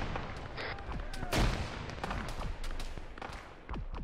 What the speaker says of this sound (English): Holy shit, we're being shot at by explosives!